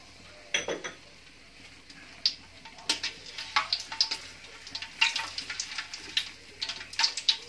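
Dried red chillies and a bay leaf frying in hot oil, giving a steady crackling sizzle with sharp pops and spits, close by, alongside a few clinks of a utensil against the pan.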